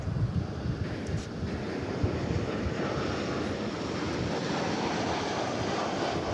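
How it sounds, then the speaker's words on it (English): A Boeing 787 Dreamliner airliner at DFW airport makes a broad, steady jet roar, fairly distant and constant, mixed with wind-like rushing noise and no voices. "That's a Dreamliner, of course."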